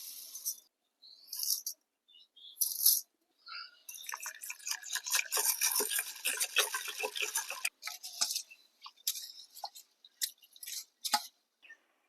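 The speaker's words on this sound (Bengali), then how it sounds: "এবারে চাল ডাল সব একসাথে ভালোভাবে ধুয়ে নেব।" Rice with mung and masoor lentils being washed together, a close sequence of splashing, dripping and rattling grains, irregular and bright, with brief pauses between bursts.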